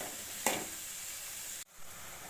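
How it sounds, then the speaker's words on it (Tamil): Bitter gourd fries in oil in a pan for a gravy, giving a steady close sizzle with a single sharp knock early on and a brief dip in the hiss near the end. "வெறும் வாணலியில் பாவக்காயை சேர்த்து நல்லா எண்ணெய் ஊற்றி நல்லா வதக்கி எடுத்துருங்க"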